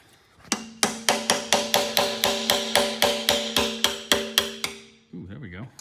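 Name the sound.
hammer banging on 1965 Ford Mustang engine parts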